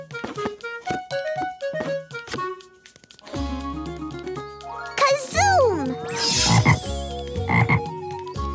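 A cartoon toad croaks in a children's animated episode, the croaks arriving as a few bursts partway through, layered over music and chiming effects with a voice speaking.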